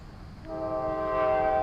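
A train sounds in the distance, a steady tonal horn rising and growing louder over a low rumble.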